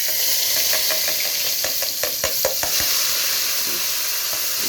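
Spice paste with turmeric fries in hot oil for a Bengali fish egg curry, giving a steady loud sizzle with a cluster of stirring scrapes in the middle, close up and without talking.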